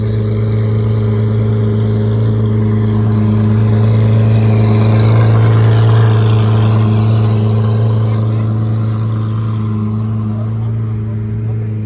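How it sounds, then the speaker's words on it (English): A Lamborghini Aventador engine running by a lake, a loud, close, steady low drone that swells slightly mid-way and eases off near the end rather than revving sharply. "We got a Lamborghini Aventador right here, just hounding."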